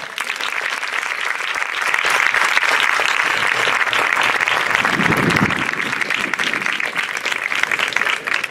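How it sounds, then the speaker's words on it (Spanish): A graduation ceremony audience for a bachillerato class breaks into dense, sustained applause, a loud steady wash of many hands clapping, with a brief low rumble midway. "Un aplauso a la generación del COVID-19"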